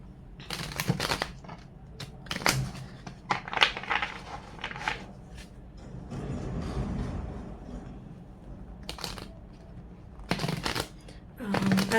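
Tarot cards being shuffled by hand, a series of soft papery riffles and slaps in uneven bursts, fairly close, with no talking over them.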